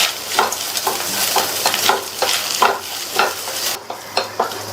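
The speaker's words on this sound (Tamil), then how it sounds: "அடுத்து 1/2 கப் அளவுக்கு தேங்காய் துருவலை சேர்த்து நல்லா வதக்கிக்கலாம்" Half a cup of grated coconut sautés in a pan over a medium flame, with close, rhythmic scraping stirs over a soft, steady sizzle.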